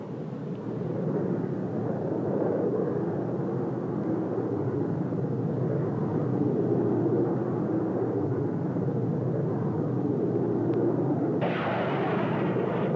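An F-14 Tomcat launches an AIM-54 Phoenix missile, giving a loud, sustained roaring rush that holds steady for over ten seconds, with a sharper burst of brightness near the end.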